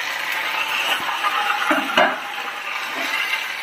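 Ginger, garlic and kanthari chilies sautéing in a pan for green apple pickle, a steady soft sizzle with a few light stirring clicks and scrapes, close by with no talking.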